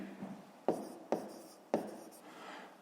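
Pen writing on paper during a fifth-grade maths exercise: three sharp tapping strokes with soft scratching between them, close and quiet, with no talk.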